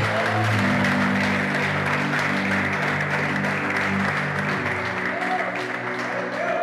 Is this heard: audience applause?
yes